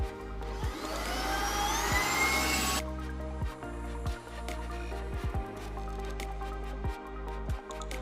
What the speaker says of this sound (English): I'm gonna go ahead and see how well this stick vacuum does on a troublesome rug that normally most vacuums struggle with